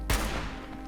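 A single sharp gunshot from the video game Fallout 76 cracks loud and close at the start, then trails off into a brief decaying rumble.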